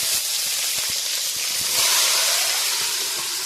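Broad flat green beans drop into hot mustard oil seasoned with black cumin and bay leaf and sizzle loudly. The hiss is steady and close, with scattered crackles and small pops running under it throughout.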